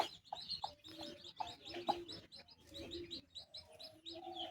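Newly hatched native chicken chicks peep at a small farm, giving bright, high chirps in quick irregular bursts, close and fairly soft, with brief gaps between calls.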